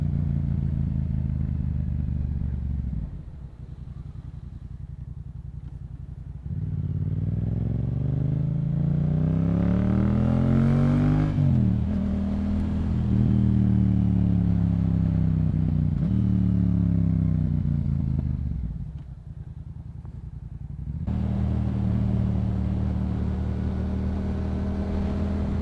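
Yamaha Bolt motorcycle ridden on twisty roads, a steady engine drone with rising and falling revs as it works through curves, with brief easing off around the bends, loud and close throughout.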